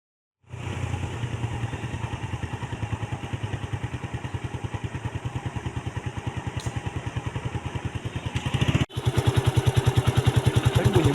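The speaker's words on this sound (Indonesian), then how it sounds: "Bunyi motor nih" A motorcycle engine starts and idles close by with a rapid, even putter, briefly cutting out before revving back to a steady chug.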